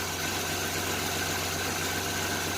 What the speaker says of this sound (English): Because of the way it misfires and clears up like that when you give it gas.